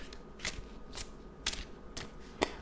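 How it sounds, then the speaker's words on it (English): Tarot cards are shuffled, giving five sharp, evenly spaced riffling snaps about half a second apart. The snaps are quiet and close, with no talking. "While I'm shuffling,"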